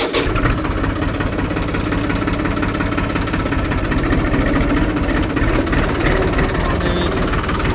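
A steady, loud tractor engine rumbles continuously at idle, with a low knocking throb running throughout and no voices.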